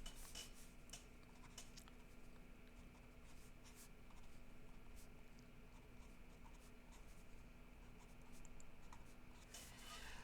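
A pen scratches out a parabola formula on paper in soft, irregular strokes with occasional light taps. It stays faint and close throughout, with no voices.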